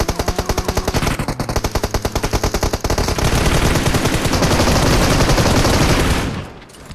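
DBS shotgun fire in the PUBG Mobile video game, a fast loud rhythmic volley of shots that blurs into a sustained roar of gunfire before cutting off abruptly.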